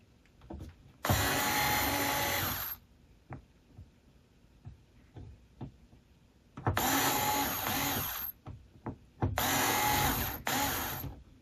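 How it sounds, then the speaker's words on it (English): A power drill bores holes in a plastic AMT USS Reliant 1/537 scale model kit, with three loud bursts of high whirring, the last one split in two, separated by quiet stretches of small clicks and handling noises. "After I had all the holes drilled, there were some that need to be longer and elongated."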